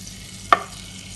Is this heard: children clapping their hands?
no